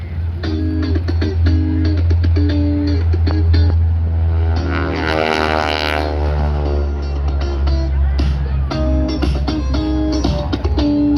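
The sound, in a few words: propeller aircraft flyby with crackling prop tips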